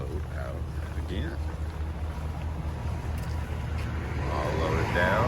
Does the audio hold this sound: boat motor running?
yes